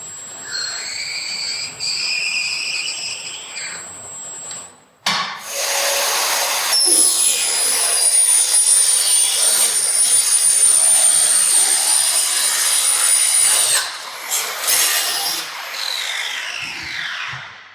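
A Schlebach SPM RS/LS-LM QA60 profiling machine cuts a timber rafter: a loud, sustained high whining cut runs for about eight seconds after a brief start-up, then spins down, preceded by a quieter tonal motor hum.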